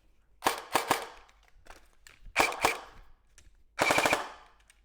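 A SIG Air MPX airsoft electric gun firing full auto in three short bursts of rapid sharp cracks, close and loud, with quiet gaps between bursts.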